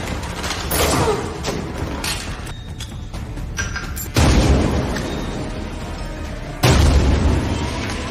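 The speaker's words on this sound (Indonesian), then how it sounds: "Setelah meledakkan salah satu ruangan, anak buah Barbosa berhasil menemukan keberadaan mereka" Explosions blowing up a room in an action film: a rumbling, crackling blast at the start, then two sudden loud booms a few seconds apart, each with a long roaring decay.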